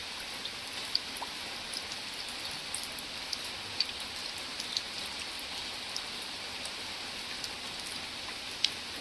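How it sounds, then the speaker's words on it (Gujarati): Steady rainfall outdoors, a quiet even hiss with scattered sharper drip ticks on nearby surfaces, and no one speaking. "અને આ સરસ મજાનો વરસાદ"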